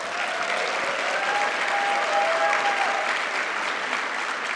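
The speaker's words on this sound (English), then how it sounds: "how about a round of applause for our students?" A conference audience at a social work education opening plenary applauds students, steady dense clapping filling the whole stretch at an even level with no talk over it.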